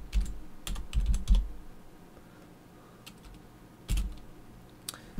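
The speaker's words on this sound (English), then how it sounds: "So we're just going to type out our text right now" Typing on a computer keyboard while entering text in Photoshop CS6, with bursts of close key clicks around the first and fourth seconds and a quieter pause in between.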